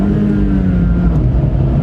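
A Honda Fit GK5 engine drones loudly and steadily up close at full throttle, a continuous throaty rumble with a sustained tone held high throughout.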